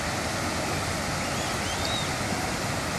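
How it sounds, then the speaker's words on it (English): Steady broadband wash of Atlantic Ocean waves on the shore, close and constant with a hissing, rushing surf texture and no clear breaks. "Let's get closer and hear the waves"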